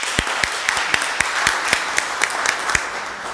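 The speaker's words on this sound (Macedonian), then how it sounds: "На тоа еден голем аплауз." Applause from an audience at a presentation of a textbook on cultural and structural competences of health workers, a steady round of clapping with sharp individual claps standing out near the front.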